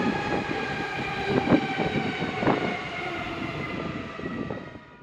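A Wellington commuter train rolls past with rhythmic clacks over the rails and a humming motor, gradually fading at the end.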